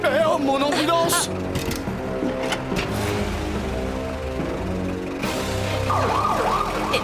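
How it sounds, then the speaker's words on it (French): An ambulance siren wails in a French animated series, its rising and falling tones running through a busy cartoon soundtrack with voices talking over it, loud and close throughout. "Eh oh, mon ambulance!"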